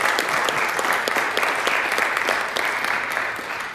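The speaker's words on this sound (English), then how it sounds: "Let's give Miss Alberti a round of applause" A city council chamber audience applauds a woman being honored, steady clapping from many people that tapers off slightly toward the end.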